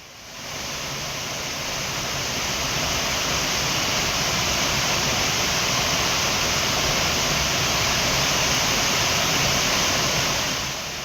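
Courtallam waterfall in full, heavy flow gives a loud, steady roar of rushing water that swells in within the first second and holds unbroken throughout, with no voices.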